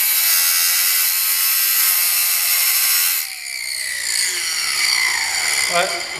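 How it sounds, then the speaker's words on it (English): A small angle grinder fitted with an oversized cutting wheel and its guard removed whines loudly at a high pitch while cutting on a Ferguson plough, then the tone drops as the disc bites and keeps cutting, close and continuous. "I've put a very large wheel on a very small grinder and taken off the guard so I can just get that wee extra bit of depth"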